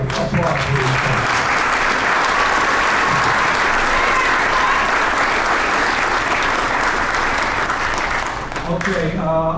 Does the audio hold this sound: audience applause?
yes